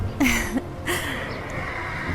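A horse lets out two short, loud whinnies in quick succession, followed by a low, steady background hum.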